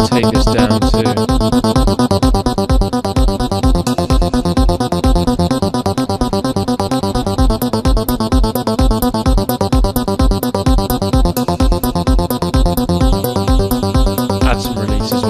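Thor synth patch in Reason 5/6, reshaped with longer release and no attack, looping over a full drum track: fast, even rhythmic pattern of synth notes and beats, loud and unbroken for about fifteen seconds.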